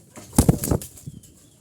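A short burst of Jalali pigeon wings flapping nearby, a few quick flutters, then quiet.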